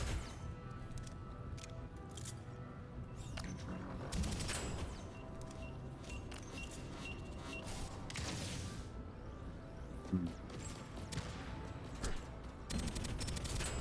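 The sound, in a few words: SMG gunfire in the video game Deadzone: Rogue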